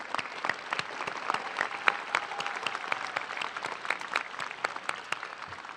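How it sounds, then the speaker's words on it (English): A crowd at a middle school promotion ceremony gives sustained applause for the parents, a steady wash of many hands with distinct sharp claps standing out, moderately loud and unbroken. "So parents, you deserve a big round of applause."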